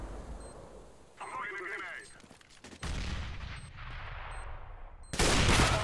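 Bursts of gunfire in a Counter-Strike match, a short rattling volley early on and a loud, dense burst at the end, with clicks and game sounds between, under speech.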